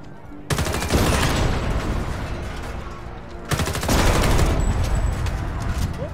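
Heavy gunfire in the video game Homefront: The Revolution, with two long sustained bursts of rapid, loud shooting separated by a brief break and no voices.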